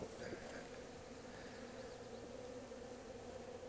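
Honeybees buzzing steadily around an open hive during an inspection, a faint continuous droning hum close by with no voices.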